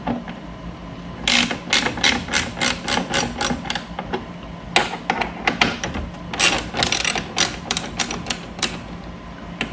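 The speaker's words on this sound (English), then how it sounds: "Ratchet, shallow 10 millimeter." A ratchet with a shallow 10 millimeter socket works the fairing bolts on a Kawasaki Vulcan Voyager VN1700 motorcycle, giving irregular bursts of close, sharp clicking.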